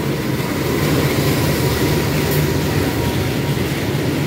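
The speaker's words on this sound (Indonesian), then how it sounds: "kereta api Pandalungan ternyata di stasiun Sidoarjo ini bersilang dengan kereta api apa ini?" Penataran passenger train from Surabaya Kota to Blitar via Malang passing the Pandalungan train at Sidoarjo station, a steady loud rumble and roar of rolling rail cars close by throughout.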